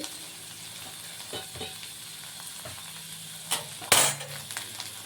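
Green chillies and garlic fry in a pan for chicken biryani, giving a continuous close sizzle broken by a few clinks and scrapes of stirring.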